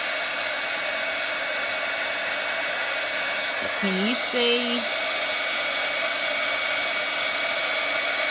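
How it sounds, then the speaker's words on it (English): Stampin' Up! heat tool for heat embossing on a stamped card, a steady loud blowing whir running throughout and heard up close, with a brief spoken question and a few short tones partway through. "So this heat tool, just move it slowly across the stamp"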